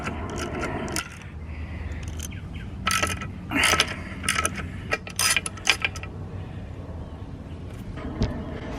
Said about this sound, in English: We'll take these two bolts out.